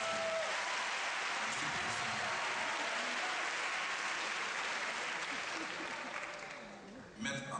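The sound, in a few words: audience applauding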